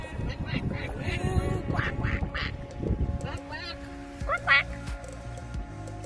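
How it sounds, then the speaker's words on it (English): A duck quacks several times in a short series near the start, with people talking over and between the calls outdoors. "Flappy, Flappy Duck"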